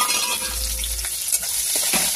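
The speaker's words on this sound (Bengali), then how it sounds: "দিয়ে দেবো কাজু কিশমিশ। একটু নেড়ে নেবো কাজু কিশমিশটা" Cashews and raisins fry in hot oil with cardamom, cloves and cinnamon for sweet pulao. A close, steady sizzle runs under occasional scraping stirs of a spoon, with no voices.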